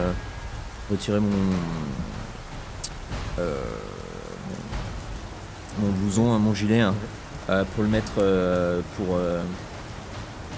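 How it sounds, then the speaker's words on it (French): Steady heavy rain hisses throughout as someone talks over it in several bursts. "Il pleut encore beaucoup."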